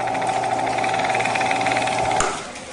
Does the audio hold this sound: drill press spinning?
yes